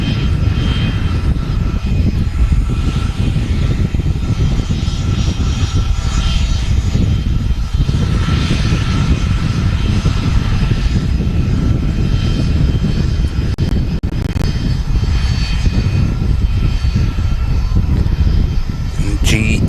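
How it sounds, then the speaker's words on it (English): Turkish Airlines A321 at Manchester Airport taxiing onto the active runway, a loud, steady low engine rumble and whine that fills the whole stretch, with someone talking over it. "the Turkish 321, which we saw earlier on the stream arriving, that's just about to taxi onto the active runway"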